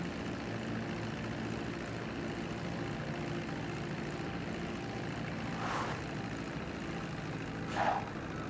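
A propeller airplane in GTA Online comes in to land on a runway with its wheels down, its engine a steady low drone throughout, with two brief swells of rushing air toward the end.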